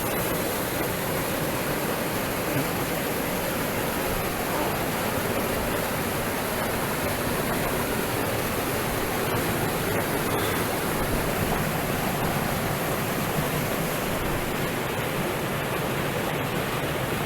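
A hidden waterfall beside a steep mountain road pours with a constant, dense roar of falling water, loud and unbroken throughout, with no voices.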